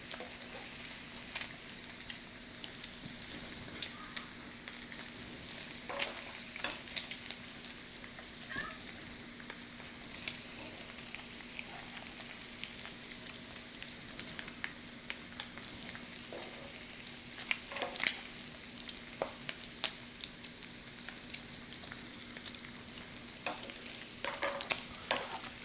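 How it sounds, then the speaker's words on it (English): Bacon frying in a pan until brown and crispy, a quiet continuous crackle and sizzle dotted with scattered pops and occasional utensil clicks, no voices. "the bacon is almost done. It's getting nice and brown and crispy"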